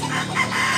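Chickens at a poultry market in Tabunok, Talisay, Cebu, a loud, close burst of clucking and crowing from several birds at once, alone without voices.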